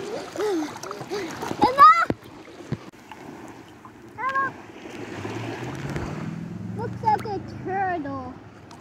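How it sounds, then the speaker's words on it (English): Water splashing as a child swims in the sea at Long Bay Beach in Negril, Jamaica, soft irregular splashes and lapping under close conversation between an adult and a child. "I'm swimming in the water"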